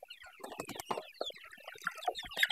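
Sonali breed chickens cluck and squawk on a poultry farm of about 360 birds, a busy overlapping chorus of short calls at close range with no talk.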